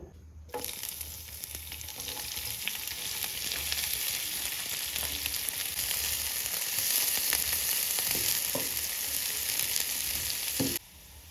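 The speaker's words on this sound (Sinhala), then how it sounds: "අපි දැන් ලූරු ටික බැද ගන්න යන්නේ. තෙල් පොඩ්ඩක් දාලා ගන්නවා." Onions sizzle and crackle steadily in hot oil for biriyani, a continuous close frying hiss with occasional faint stirring knocks, no voices.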